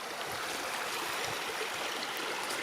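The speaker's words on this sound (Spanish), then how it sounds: "mira qué poder tiene esa agua. Lleva una buena corriente." A strong river current rushes through rapids in a Dominican Republic jungle, a loud, steady broadband roar of churning water that holds constant throughout with no talking.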